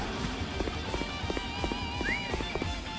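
Hooves clip-clop in a quick, steady rhythm as a horse runs in the Dynasty Warriors Empires video game, set against a constant backdrop of game music and battle noise.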